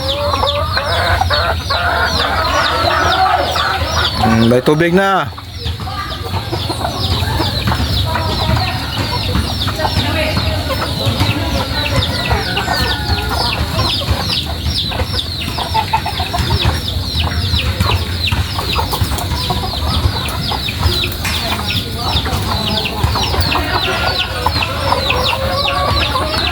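Pet chickens cluck steadily and continuously while being fed, with occasional rooster-like calls and a brief louder disturbance near the start; a voice speaks briefly.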